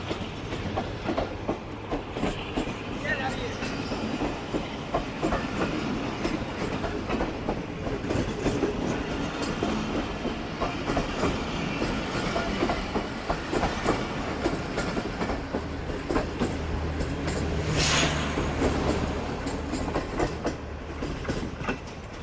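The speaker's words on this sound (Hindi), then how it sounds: "बहुत ज़बरदस्त पिकअप किया है दैट 230 ने" Shalimar Express carriages rolling behind ZCU locomotive 230 between Rohri and Rahim Yar Khan, a loud, continuous close-up rumble with steady clickety-clack of wheels on rail joints and no voices.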